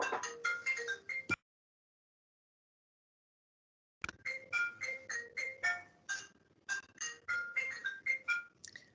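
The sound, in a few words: phone ringing in the background at home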